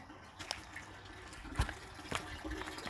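Water trickling out of a spring collection box feeding a microhydro setup, faint dribbling and a few soft splashes and drips close by.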